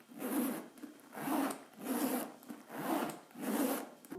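The zipper on a Louis Vuitton Speedy 25 Bandouliere bag is pulled back and forth in five slow, even strokes, each a close, soft rasp of metal teeth.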